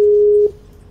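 Loud telephone busy tone, one steady half-second burst close to the microphone, cutting off abruptly into faint background noise.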